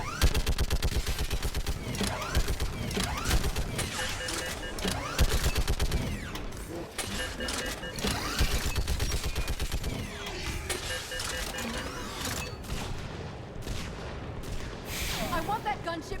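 Sustained gunfire and heavy blasts in Mass Effect 3 combat, a dense, loud barrage of rapid shots and booms running continuously, with voices shouting over the battle.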